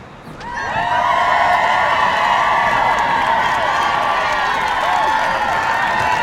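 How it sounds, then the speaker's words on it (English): A large crowd cheering and going wild, swelling quickly into a loud sustained roar of voices and whoops that holds steady to the end. "so the crowd goes wild"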